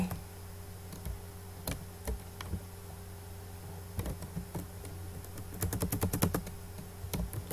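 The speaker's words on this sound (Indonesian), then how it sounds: "Saya ketikkan dulu seperti ini" Typing on a computer keyboard close up, quiet scattered key clicks that build into a quick run of taps near the end, with no talk.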